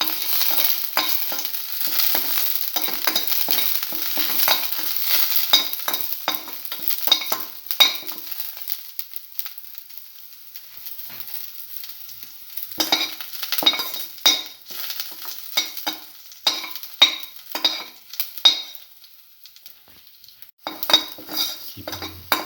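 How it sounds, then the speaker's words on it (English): Shallots and curry leaves sautéing in a pan for a shallot omelette, with a hissing fry under busy, rhythmic metal scraping and clinking of a spatula that pauses midway, then resumes. "keep it sauteing. Thoroughly saute mix."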